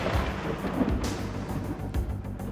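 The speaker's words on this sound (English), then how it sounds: "You may hear the roll of thunder and see the flash of lightning." Low thunder rumbles and rolls through a storm with rain hissing steadily underneath, sustained and fairly loud, with no voices.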